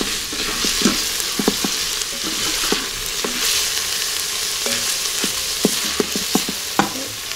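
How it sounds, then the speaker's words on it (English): Garlic and onions fry in a pot for chili, giving a steady close sizzle broken by repeated sharp spoon scrapes and taps against the metal, with no talking. "And then I add the garlic. And just stir that for about 30 seconds until it's fragrant."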